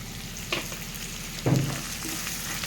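Chopped onions with a pinch of turmeric sizzle steadily in a hot pan for puffed rice upma, with two louder scraping stirs cutting through the constant frying hiss; no one talks.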